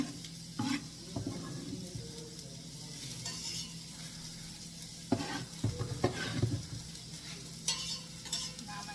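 Chopped onion sizzling in hot oil in a pan, a steady quiet crackle broken by scraping stirs and occasional clinks of a utensil against the pan.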